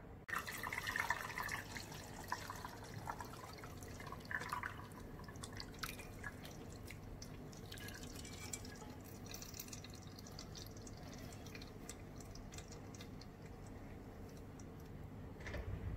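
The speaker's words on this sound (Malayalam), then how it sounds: "ഇനി നമ്മുടെ പാലിൻ്റെ കൂട്ടങ്ങ് ഒഴിച്ചു കൊടുക്കാം." Curdled milk for homemade paneer is poured through a strainer into a pot below, giving a faint, steady trickle and patter of draining liquid that runs unbroken for the full length, with no voices.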